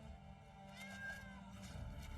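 A house cat meows faintly in the background, a couple of short tonal cries in the middle of a quiet stretch.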